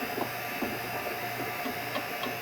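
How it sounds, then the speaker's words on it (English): Vacuum pump hooked to the R-12 to R134a converted air conditioning system of an early C4 Corvette runs steadily with a constant droning hum, accompanied by faint intermittent ticks and clicks. "So I'm going to turn on this vacuum pump again, just run it for a little bit more"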